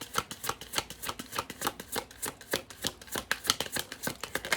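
Playing cards are shuffled for a tarot-style card reading, giving a steady, rhythmic run of crisp riffling snaps that repeat quickly throughout, close and clear with no talking.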